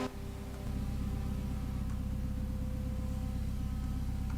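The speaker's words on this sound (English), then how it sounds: "Now that is the sound of some rotaries." Rotary-engined race cars in Assetto Corsa on the Mt. Akagi touge course, a continuous buzzing engine drone holding steady at a fairly constant pitch, moderately loud, with no speech.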